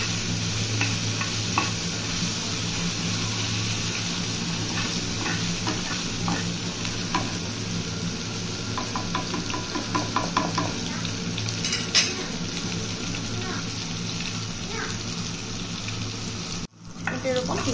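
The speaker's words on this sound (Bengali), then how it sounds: "মাংসটাকে তেলে ভেজে সিদ্ধ করে নিতে হবে।" Meat sizzles steadily in hot oil in a pan, with a continuous frying hiss and occasional scraping and stirring clinks from a utensil, close and moderately loud.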